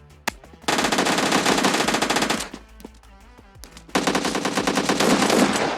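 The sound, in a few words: Uzi and shotgun gunfire in PUBG Mobile Lite video game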